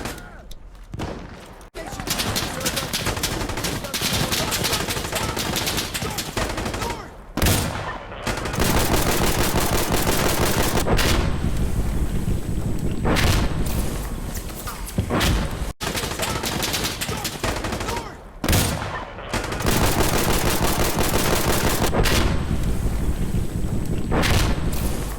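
Gunfire fills a World of War video game match, including shotgun blasts, as loud, dense bursts of rapid shots with only brief pauses between them.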